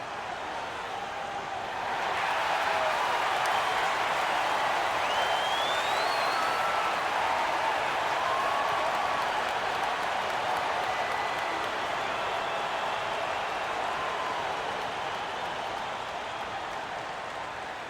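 In an NBA 2K25 basketball game, a large arena crowd cheers and applauds at center court after the regular season ends, a broad steady roar that swells and then holds for a long stretch.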